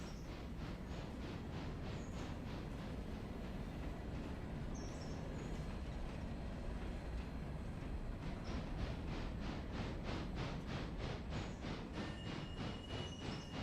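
Coal-fired steam locomotive backing up in the Realistic Railroader game, rhythmic chuffing exhaust beats pulsing steadily over a low rumbling mechanical bed, fairly faint and with no voices.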